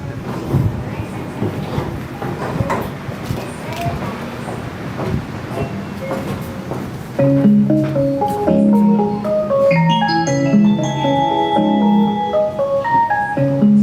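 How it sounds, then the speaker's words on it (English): Mixed noise and murmuring voices at a Japanese railway station give way to a bright, chiming electronic train departure melody that plays clearly for several seconds. "Trains play melodies when leaving the station."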